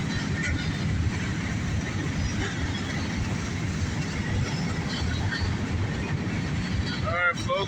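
A southbound CSX mixed freight train rumbles steadily past at close range, a continuous loud roll of wheels and cars with a brief squeal near the end, while people talk faintly underneath.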